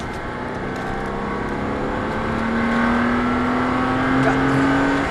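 Porsche Cayman S accelerating on a race track during a driving course, the engine note rising steadily in pitch as it pulls through the gear, heard from inside the car with a faint voice.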